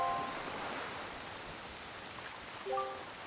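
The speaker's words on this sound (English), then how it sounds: "this place suffers under dark clouds and rain" Steady rain falls over a cursed island in the Wind Waker video game, a continuous hiss of drops on the ground with a few brief tonal game sounds over it and no talking.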